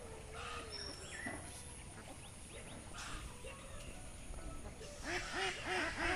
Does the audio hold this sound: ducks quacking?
yes